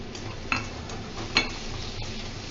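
Tomato and capsicum with spices fry quietly in a pan while a spoon stirs, giving a soft background sizzle with two sharper scraping strokes.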